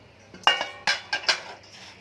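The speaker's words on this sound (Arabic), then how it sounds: "نقلب بقى كويس كده قبل ما ننزل الصلصه بتاعتي" Stirring chopped coriander and dill in a pot gives a few distinct metallic clanks and scrapes of the spoon against the pot, spaced irregularly over a couple of seconds.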